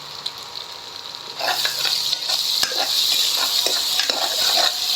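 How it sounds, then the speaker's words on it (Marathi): Ginger garlic paste for a Maharashtrian mutton dish fries in hot oil, a bright hiss swelling after a quieter start, with repeated scraping stirs cutting through the steady sizzle close by. "आपण इथे आलं लसूण पेस्ट दोन्ही मिक्स करून टाकणार आहोत. टाकल्यानंतर हलवून घ्यायचं आहे."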